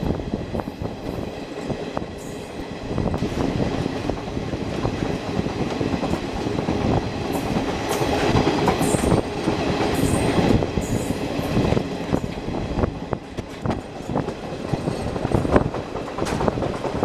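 A train runs along a rural railway line in Jharkhand near Muri Junction, heard from on board as a steady rumble with rhythmic clickety-clack of wheels and occasional squeals, sustained throughout with no speech.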